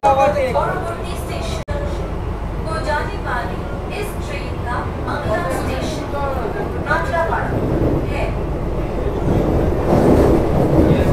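An AC local train on the Sealdah–Ranaghat line, held at a station platform, rumbles steadily with low, continuous rail noise growing slightly louder toward the end, while people talk over it throughout.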